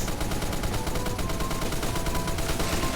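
An M60 machine gun in the Phantom Forces video game fires in a sustained, rapid burst, a dense stream of loud, close shots with no pauses.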